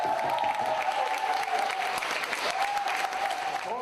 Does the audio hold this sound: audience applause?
yes